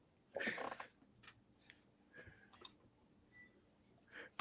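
A cat vocalizing in a played-back clip, a few short cries with a laugh-like quality at moderate level, separated by quieter gaps and faint clicks.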